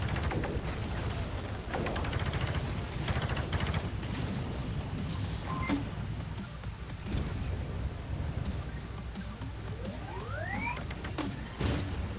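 Gunfire from droids and the player in the VR shooter Space Pirate Trainer DX, with rapid bursts of electronic blasts and sharp shots over a constant game soundscape, plus a rising synthetic sweep near the end.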